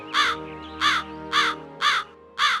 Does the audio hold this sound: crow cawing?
yes